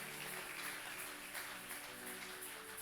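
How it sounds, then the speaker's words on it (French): A church congregation applauds during an evangelical sermon, a continuous, fairly faint patter of many hands under a low steady hum, with no speech on top. "Est-ce qu'on peut applaudir l'Éternel?"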